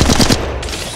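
A short, loud burst of rapid automatic weapon fire in Apex Legends Mobile, a few close shots in quick succession that then fade into a ringing tail.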